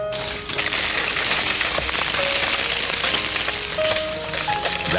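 Melting ice drips and patters after an ice storm, giving a dense, steady hiss of drops like light rain, with a few brief tonal tones in the background.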